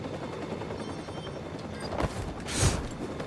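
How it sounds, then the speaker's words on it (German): Helicopter rotor and gunfire in the video game Watch Dogs 2: a continuous mechanical rumble with a few bursts of shots and a louder blast near the end, no voices. "Wo ist denn der Hubschrauber?"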